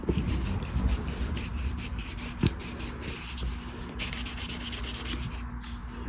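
Steady rubbing and buffing of a lacquer finish on a custom bass guitar pickup, close and continuous, with brisk back-and-forth strokes and a faint background hum, no voices.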